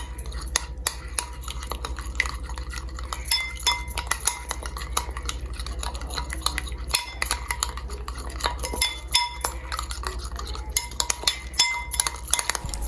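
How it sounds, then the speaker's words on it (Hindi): A spoon stirs spices into garlic ketchup for pizza sauce in a bowl, with rapid, continuous clinking and scraping against the dish up close. "आप सारे मसालों को जो है ना अच्छी तरह मिक्स कर लेते हैं"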